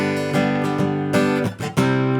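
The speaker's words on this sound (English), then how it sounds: "There's a little chicken noise because I'm changing chords in that little down up space." Acoustic guitar strummed in a basic pattern with a quick down-up flick at the end, bright repeated chord strokes and a brief muted scratchy gap during the chord change, played alone.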